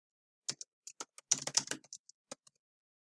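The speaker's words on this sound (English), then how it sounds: "maybe I randomly type 1 or 2 paragraphs" Someone types on a computer keyboard in Microsoft Word, producing quiet, close, irregular keystroke clicks, a few scattered taps followed by a short quick burst, with no talking.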